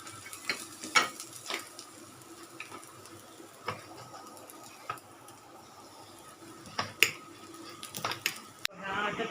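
Ground bombil fish paste frying with onion on a griddle pan, a low sizzle under scattered scraping and stirring taps from a utensil, fairly faint and close.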